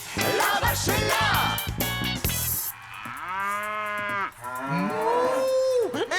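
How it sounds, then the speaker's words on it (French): A cow moos loudly several times in a row, long drawn-out calls close by, after a brief burst of other noise at the start. "la vache est là."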